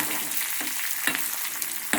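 Curry leaves and asafoetida sizzle in hot oil for a tempering, a steady close hiss with a few brief louder crackles and stirs, no voices.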